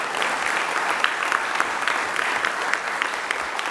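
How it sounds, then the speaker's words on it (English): Steady applause from a crowd at a police promotional ceremony in Paterson, New Jersey, honoring a newly promoted lieutenant, dense and even from start to finish. "One more round of applause for our newest lieutenant, Chris Benevento."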